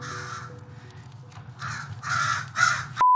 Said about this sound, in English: Magpies.